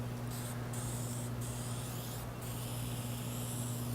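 Oven cleaner is sprayed onto a lathe part in three short, faint aerosol hisses spaced about a second apart, over a steady low electrical hum.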